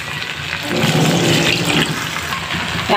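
Water pours into a pot of chicken curry with new potatoes, a short, loud, rushing gush that swells and then eases off.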